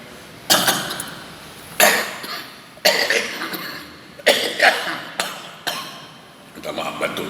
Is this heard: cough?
yes